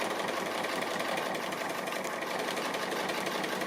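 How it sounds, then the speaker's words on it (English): A sewing machine running a free-motion straight stitch for appliqué, with a steady, continuous mechanical whir and rapid needle rhythm throughout, close and moderately loud with no talking. "So I'm just doing basically a straight stitch but free motion."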